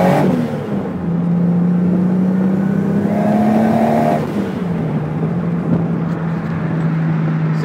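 A turbocharged RB30-engined Nissan S14 with a Holset HY35 turbo revs up and down steadily, climbing in pitch with a whirring turbo whine, loud and close, with no talking.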